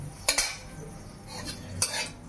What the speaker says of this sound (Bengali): এবার ভালো করে এটাকে নাড়িয়ে নেবো।